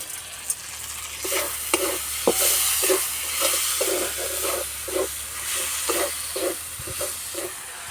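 Spice paste sizzling in oil for jackfruit curry, a steady close hiss and crackle with regular scraping strokes of stirring about once per second.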